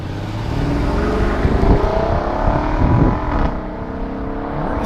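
A Mercedes driven in Sport Auto mode gives a continuous, close engine drone with road and wind noise, swelling slightly as it pulls and shifts, with no talk over it.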